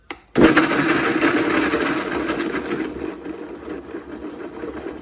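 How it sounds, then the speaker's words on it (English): A blender on a low setting whirs steadily through mango chunks and mango juice, starting abruptly after a brief silence and holding a constant churning drone that eases slightly toward the end. "I'm blending these two together, and I'm actually blending it on a lower setting"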